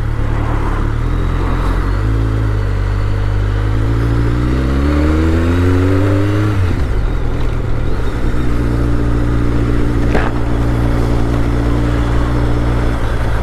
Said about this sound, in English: Before we get across with all the bloody cars.